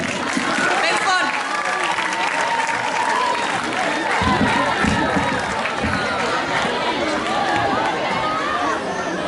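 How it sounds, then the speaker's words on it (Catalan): A crowd at a school Olympiad opening festival claps hard and continuously, with chatter and scattered voices mixed into the steady applause. "fort aplaudiment, sisplau."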